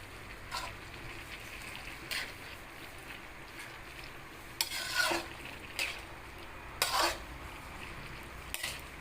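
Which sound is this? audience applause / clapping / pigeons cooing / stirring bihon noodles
stirring bihon noodles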